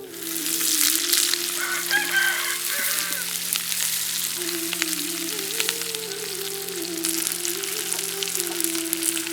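Small onions sizzle and crackle in hot oil, a steady close frying hiss with occasional stirring scrapes, no speech.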